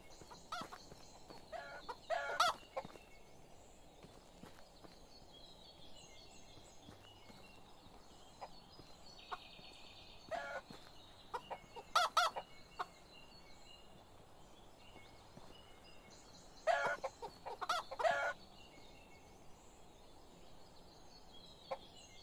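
Farmyard chickens and a rooster in the medieval village game Medieval Dynasty, with scattered clucks and a few louder crowing bursts spaced apart over quiet ambience.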